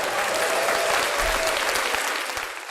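An audience applauds in a steady, dense wash of clapping for a guest introduced on an education podcast, holding loud throughout and tapering slightly at the end.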